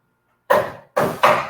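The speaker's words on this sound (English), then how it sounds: "I hit the knife on the side of the garbage can and the pit goes flying off" A knife rapped against the side of a garbage can to knock off an avocado pit: three sharp, close knocks, one alone and then a quick pair.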